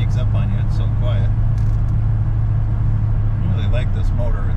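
Steady low engine rumble of a 1970 Rover P6 3500S with a 3.5-litre engine cruising quietly, with road noise throughout and a voice talking over it.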